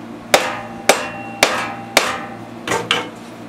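A hammer seats a bearing into the rear housing of a Honda clone generator: six sharp, ringing metallic strikes, close and loud, roughly evenly spaced, with the last two landing closer together.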